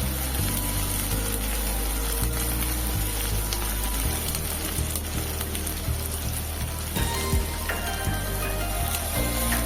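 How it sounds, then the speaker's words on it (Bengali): Chopped onion fries steadily in a pan, a dense continuous sizzle with a faint low rumble running underneath throughout. "পেঁয়াজটাকে ভালো করে ভেজে নিতে হবে নরম হয়ে আসা পর্যন্ত"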